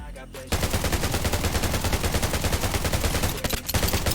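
Loud, rapid automatic gunfire from the video game Undawn rattles in a dense, continuous burst that stops briefly near the end and then resumes.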